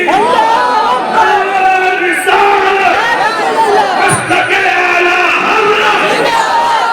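A large crowd at a religious speech gathering loudly chants the Nara-e-Takbir slogan, many voices shouting together in a sustained, overlapping roar that fills the whole stretch.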